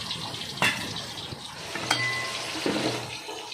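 Tap water runs steadily over a whole pork leg being rinsed in a sink before cooking, with a few knocks and splashes from handling the meat; no one speaks.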